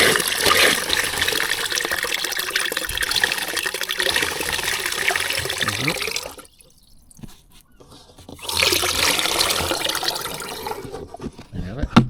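Water pours steadily into the reservoir of a stone garden water feature, a continuous gushing splash that cuts out for about two seconds, then resumes and trickles with small drips near the end.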